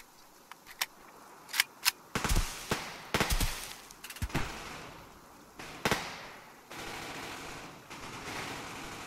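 Gunfire in the online shooter Survarium, played on the School map, with a rapid string of sharp shots and cracks that starts sparse and then clusters, loud and close, ending in a steady hum of game noise.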